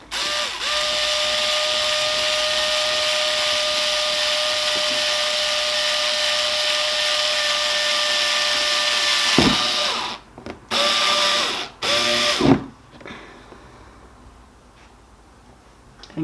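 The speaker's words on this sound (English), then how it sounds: "I'm going to start by drilling a pilot hole" An electric drill boring a pilot hole through a plastic sheet, a steady loud motor whine with harmonic tones running about nine seconds, then several short bursts and stops before quieter handling noise.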